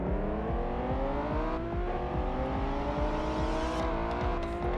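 Lamborghini Murcielago Coupe engine in the PS2 racing game Test Drive Unlimited, a continuous revving roar with rising pitch through repeated gear shifts, steady and loud with no talk.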